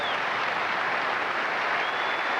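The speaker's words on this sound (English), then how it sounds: "And the crowd loves it." A crowd applauds steadily and loudly after a women's gymnastics routine at a 1982 USA versus USSR meet, in a continuous wash of clapping with no voices over it.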